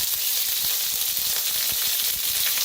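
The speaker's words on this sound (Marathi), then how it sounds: "तेल चांगलं गरम झालंय, त्याच्यात टाकूया मोहरी." Mustard seeds sizzle and crackle steadily in hot oil in a pan, a loud, close, continuous hiss dotted with quick pops and no voices.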